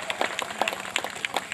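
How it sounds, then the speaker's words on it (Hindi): A crowd claps at a Suheldev Bharatiya Samaj Party (SBSP) political rally in an open maidan in Bahraich, Uttar Pradesh, giving a steady patter of applause with repeated sharp claps under a faint, indistinct voice. "एक बार जोरदार ताली बजाकर स्वागत करिए भाइयों का, जोरदार ताली बजाइए"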